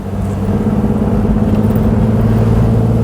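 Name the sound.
Gilbern Invader Mk3 sports car accelerating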